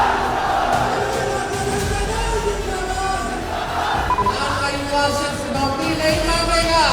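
A large crowd gathered at a political rally in Bihar roars and cheers continuously, with loud shouting and overlapping voices swelling throughout.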